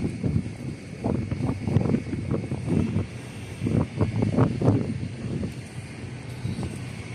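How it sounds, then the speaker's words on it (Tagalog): Strong wind roars and gusts during a nighttime sandstorm in Saudi Arabia, buffeting the microphone in uneven rushes throughout. "Lakas pa rin ang hangin."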